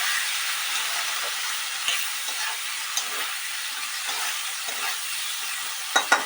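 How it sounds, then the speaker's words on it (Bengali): Green beans with turmeric fry in oil with a soft, continuous sizzle, with a few light clinks of stirring near the end. "এটাকে ঢাকা দিয়ে দেবো দিয়ে ভেজে নেবো"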